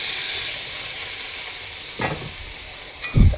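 Mung beans tipped into a hot pan with sautéed garlic, a soft steady sizzle and hiss running throughout, with two louder bursts of sizzle and clatter near the end as the beans hit the oil.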